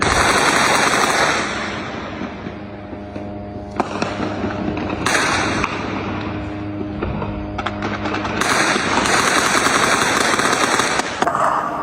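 Rapid bursts of gunfire and explosive bangs from news footage of bombing over tents and damaged homes in Jabalia, northern Gaza, loud and continuous with dense crackling volleys and heavier blasts throughout.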